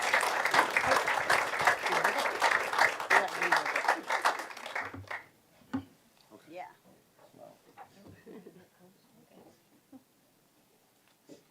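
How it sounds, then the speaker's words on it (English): Audience applause at a city council regular session, a loud burst of dense clapping that runs for about five seconds, then drops away to sparse claps while people talk. "Let's give Urban Ministries a round of applause."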